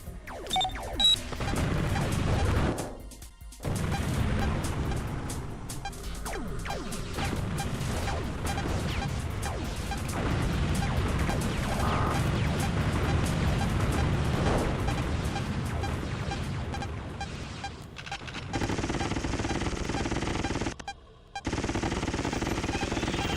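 Weapons fire and explosions in the G-Police flying combat game, with repeated crashing blasts and bursts of firing over a dense rumbling background and a few sudden drops to near silence.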